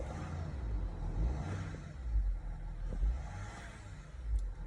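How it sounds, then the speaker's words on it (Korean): The turbocharger of a Genesis G80 engine, which has been labelled faulty, produces a low, steady engine hum with gentle swells and a faint whooshing rise, heard at close range with no talking. "자, 터보 소리 한번 들어볼게요."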